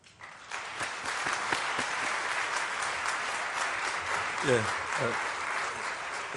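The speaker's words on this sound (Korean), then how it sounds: "목사님 나오실 때 우리 박수를 크게 한번 축복하고 그러겠습니다" A church congregation at a revival meeting breaks into sustained applause as the pastor comes out, a dense wash of clapping that swells and holds steady, with a voice briefly heard partway through.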